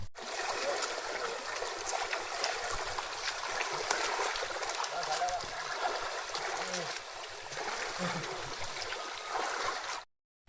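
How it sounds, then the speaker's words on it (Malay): A river stream rushes over rocks on a mountain trek, a steady broadband wash of flowing water, close and continuous for about ten seconds before cutting off. "Okey, sungai yang ketiga."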